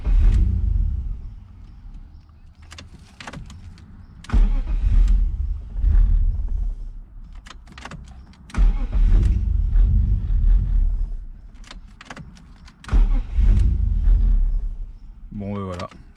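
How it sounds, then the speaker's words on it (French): A BMW E46 328 running on E85 fuel cranks and fires with a deep rumble, surges briefly under small throttle blips, then dies, repeating this start-and-stall pattern several times, loud and close, with someone talking in the gaps. "ça ne tient pas le ralenti en mettant des petits coups de pédale, ça a tendance à monter un tout petit peu, mais ça cale direct"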